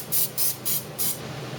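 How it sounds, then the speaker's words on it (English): Cooking spray hissed into a crock pot in four quick, close bursts at an even rhythm, followed by a brief quiet moment. "I'm going to spray my crock pot."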